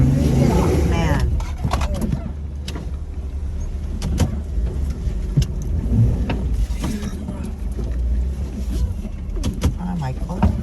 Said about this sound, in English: I'm on the gas and it's not moving.